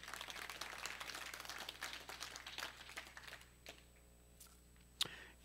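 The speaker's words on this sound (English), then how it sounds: "Let's give him applause." Applause from a church congregation, a scattered crowd of claps fading out over a few seconds, followed by near silence and a single sharp knock.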